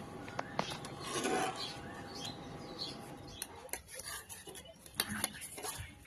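A spoon stirs milk in a pot after cardamom powder goes in, producing light metallic scrapes and clinks at irregular intervals over a soft background, with faint bird chirps nearby.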